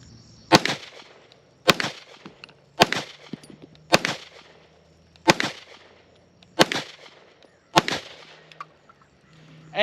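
Walther PDP pistol firing seven rounds of flat nose hollow point ammunition at an outdoor range, loud close reports spaced roughly a second apart, each with a short echoing tail.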